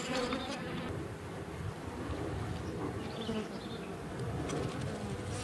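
Honey bees buzz steadily around an open horizontal hive, a constant close drone of many insects with no speech.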